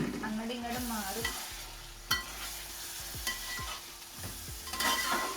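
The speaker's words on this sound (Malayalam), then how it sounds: "ഇനി അരിഞ്ഞു വെച്ച തക്കാളി ഇവിടെ ചേർക്കാം." Chopped tomatoes stirred into sizzling biryani masala in a pan for dum chicken biryani, with steady frying hiss and a series of sharp spoon scrapes and knocks against the pan at close range, no talking.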